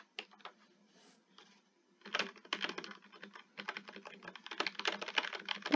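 Computer keyboard keys tapped to switch off sticky keys, a few light presses at first, then a fast, dense run of close clicking that grows louder toward the end, with no talking.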